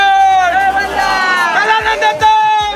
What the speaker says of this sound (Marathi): समोर आमच्यामुळे भरपूर भाविकांची गर्दी जमलेली आहे.